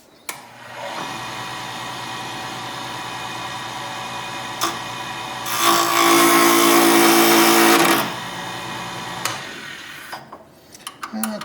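Power tool shaping a square wooden dowel into a round ring core, a steady motor whine running throughout with a louder, harsher burst of cutting in the middle before easing back to the idle hum.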